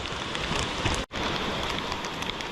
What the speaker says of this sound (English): as you can see, it's pouring rain